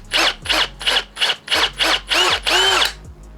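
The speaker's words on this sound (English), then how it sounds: "then just a 1/8 drill bit." A power drill with a 1/8-inch bit whirs in repeated short bursts, about eight pulses in a row, close and loud, grinding through material.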